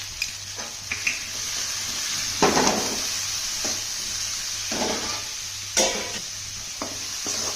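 Spiced noodles with garam masala, coriander powder and pepper powder sizzle steadily in a hot pan while a utensil stirs and scrapes them in irregular strokes, with occasional louder tosses.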